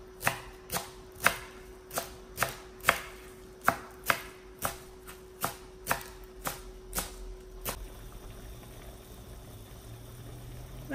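Knife chopping cilantro finely on a cutting board, about fifteen crisp, evenly spaced close-up chops with a faint background hum, ending in a quieter steady wash of sound.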